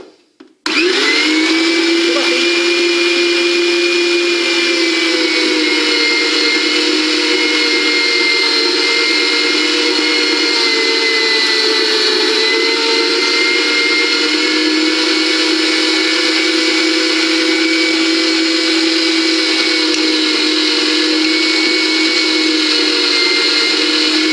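An electric food chopper whirs continuously at a steady high pitch, loud and close, starting abruptly and running without a break.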